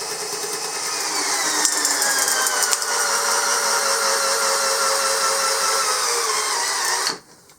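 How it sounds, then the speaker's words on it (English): A 20-volt cordless drill whines steadily at full speed for about seven seconds, its pitch slowly drifting as it drives a screw, then stops abruptly. "Here we go with the 20-volt drill."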